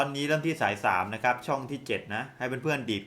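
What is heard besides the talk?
None of the usual background noises is heard.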